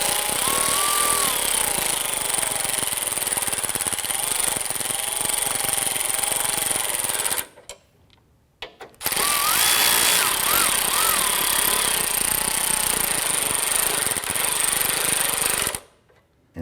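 Power tool whirring steadily as it tightens the AC condenser bracket bolts on a 2009-2015 Honda Pilot, loud and close with a rising whine in long bursts, one short pause midway and a stop near the end.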